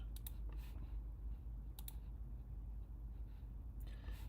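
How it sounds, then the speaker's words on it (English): Computer keyboard clicking faintly in a few quick bursts of keystrokes over a low background hum, with pauses between the bursts. "God, I hate this keyboard."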